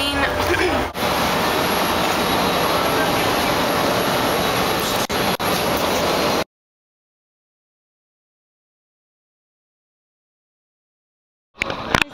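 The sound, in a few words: jet airplane engine while boarding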